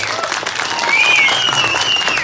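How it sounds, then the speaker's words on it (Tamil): Audience clapping fills a Tamil village stage drama performance, a dense steady wash of applause with a thin whistle-like tone rising over it partway through. "கைதட்டுங்க எல்லாரும்"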